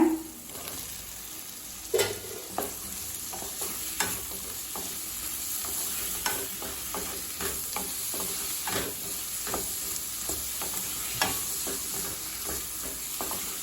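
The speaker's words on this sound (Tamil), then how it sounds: "நல்லா ஒரு 2 நிமிஷம் வரைக்கும் நல்லா வதக்கிக்கோங்க" Mushrooms sizzle and hiss in a hot pan over high flame, with repeated scraping stirs of a utensil throughout; steady and close, no voices.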